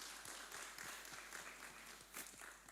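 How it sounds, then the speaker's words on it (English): Audience applause at a media expo, a faint, steady patter of many hands clapping in a hall, heard from a distance with a low hum beneath. "A round of applause for UCU"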